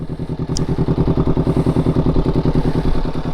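Honda CBR500R fitted with a Leovince GP Corsa Evo exhaust idles steadily up close, a loud, even low throb pulsing in a fast regular rhythm, with one brief higher click near the start.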